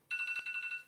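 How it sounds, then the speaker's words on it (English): A phone alarm goes off, a rapid series of bright, pulsing electronic tones repeating about eight times in under a second, clear and close. "That was my alarm."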